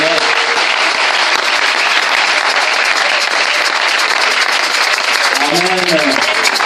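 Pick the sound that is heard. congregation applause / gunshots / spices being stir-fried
congregation applause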